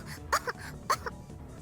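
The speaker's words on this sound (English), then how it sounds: "Ferris coughs, shaking wheat flour off her clothes and hair." A character in the Steins;Gate video game coughs after being covered in wheat flour, two or three short rough coughs spaced apart, close and moderately soft.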